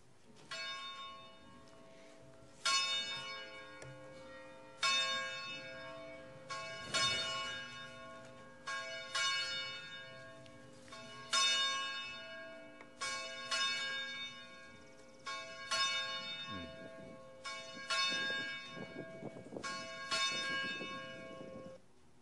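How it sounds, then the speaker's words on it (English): A church bell rings to open a Sunday worship service, roughly nine or ten evenly spaced strokes with long resonant decays, heard at a moderate distance with nothing else in the way. "we will begin our worship with the ringing of the church bell"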